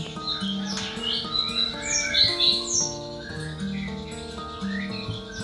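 An orange-headed thrush (anis merah) calling and singing nearby, a continuous run of clear whistled phrases and squawky notes with no talk.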